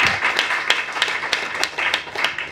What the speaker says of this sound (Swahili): Alafu mpe Yesu makofi ya kutosha tena.